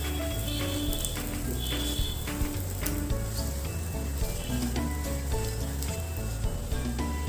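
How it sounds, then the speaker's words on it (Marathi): A paratha crisping in ghee on a hot pan, turned over and roasted on both sides, gives a steady, dense sizzle with small crackles and taps throughout, moderately loud and close with no talk. "दोन्ही बाजूने आपण छान खरपूस भाजून घेणार आहोत पराठा."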